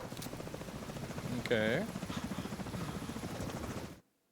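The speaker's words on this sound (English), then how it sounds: "we need to get Chernenko on that extraction chopper now" An extraction helicopter in the video game The Division 2 approaches with a rapid, steady rotor chop, rising to a loud whoosh midway; a voice speaks briefly over it before the sound cuts off abruptly.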